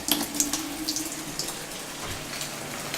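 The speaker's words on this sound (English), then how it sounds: "I'm going to wash the hands." Tap water runs steadily into a kitchen sink for hand washing, a soft continuous splash with a few brighter drips, fairly close and alone without talk.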